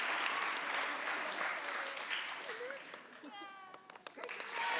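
Applause from an audience at a theater academy graduation ceremony rises and continues while voices talk over it, with a few higher-pitched calls cutting through near the end.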